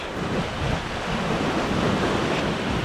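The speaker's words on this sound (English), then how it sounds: "It's called Selong Beach, and look at this for a beach." Surf rolling onto Selong Beach in Lombok, a steady broadband wash of waves mixed with wind noise on the microphone, continuous and fairly loud with no voices.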